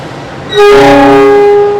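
Kamandaka passenger train making a shunting movement at a station: after a brief quiet start, a loud sustained horn blast with layered steady tones sounds close by and holds to the end.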